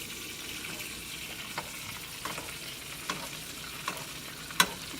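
A steak sizzles steadily in a hot pan with rosemary while being basted, the continuous frying hiss broken by a few sharp spoon clinks against the pan, the last one loudest.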